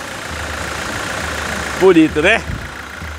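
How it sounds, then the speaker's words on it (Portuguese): A newly installed engine in a 2017 Toyota SW4 idles steadily with a low, even hum, while a person briefly speaks over it partway through. "Motor instalado, funcionando, com água, com tudo."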